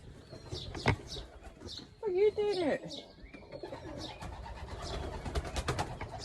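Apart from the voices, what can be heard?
pigeon flying overhead and cooing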